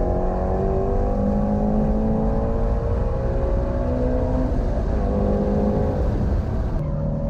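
A 2020 Toyota Supra GR or Ford Mustang Shelby GT350 on a race track holds a loud, steady engine drone as it brakes into a corner, with the revs shifting and a brief change near the end.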